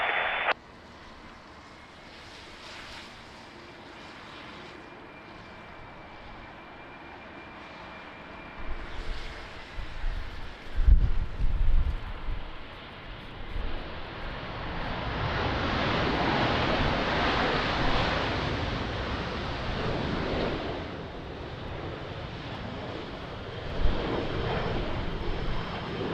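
Airliner on an ILS approach to runway 20 at Lisbon Airport in strong wind, its engine roar building from faint and distant to a loud broad rush that holds steady, with wind noise underneath.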